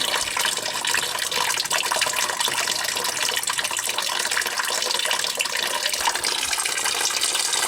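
Water rushes and gurgles steadily through household plumbing being drained for winterizing, a continuous loud flow with no pauses and no voices.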